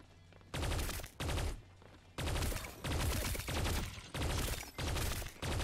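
Repeated bursts of gunfire from the video game T3 Arena, loud, close sustained volleys of about a second each separated by short pauses, with no talking.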